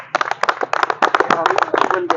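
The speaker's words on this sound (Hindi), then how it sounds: "तालियां बजाओ उनके लिए" A crowd claps for a fire rescue team during a rescue training session at a school, a quick burst of dense, close applause mixed with voices talking.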